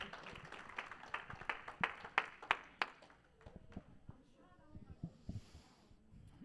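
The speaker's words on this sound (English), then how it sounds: "give a round of applause to everybody who received their chip today" A small group at a Celebrate Recovery meeting gives a short, quiet round of scattered hand claps for members receiving recovery chips, fading out after a few seconds into faint room sounds.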